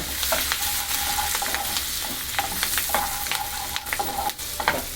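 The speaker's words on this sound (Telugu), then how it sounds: "ఉల్లిపాయలు పచ్చిమిర్చి కట్ చేసుకున్నాం కదా అది వేసుకోవాలి" Chopped onions and green chillies fry in a hot pan, giving a steady close sizzle broken by repeated scraping and stirring clatter, with no voices.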